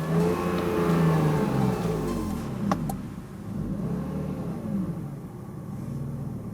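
A BMW E46 with an unstable idle revs up strongly after starting, its close, loud engine rising and then settling back into a steady, slightly uneven rumble.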